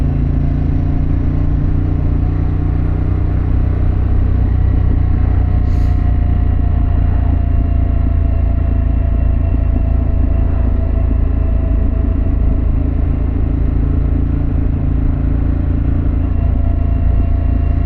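A Harley-Davidson Pan America motorcycle rides along, its exhaust a loud, steady low rumble that holds evenly throughout with some wind and road noise and no speech.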